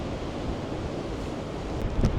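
Strong winter gale of about 40 knots blows across the Irish Sea at Heysham, a steady roar of wind buffeting the microphone over crashing surf, with a louder gust near the end.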